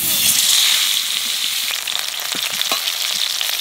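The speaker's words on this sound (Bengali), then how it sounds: "মাছটারে লবণ হলুদ মাখাইয়ে কড়া বাজার দেব" Fish coated in salt and turmeric sizzling in hot oil, a loud steady hiss close by with a few soft stirring knocks.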